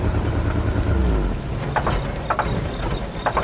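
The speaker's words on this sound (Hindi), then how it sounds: "बादलों की आवाज, बरसात की आवाज, बिजली कड़कने की आवाज, सब कुछ सुनाई देने लगा।" Rain falls steadily, with a deep roll of thunder near the start and scattered crackles, as a sound effect in a storm scene. It sounds dense and full, with no voices.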